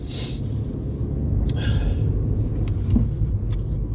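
A car on the road on a cold autumn morning commute, with a steady low engine rumble and road noise heard from inside the cabin and a few faint clicks over it.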